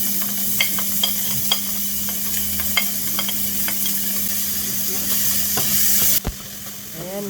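Garlic, onion and ginger frying in a pan, a steady sizzle with repeated scraping taps of a utensil as the mix is stirred, ending in a sharper clatter near the end.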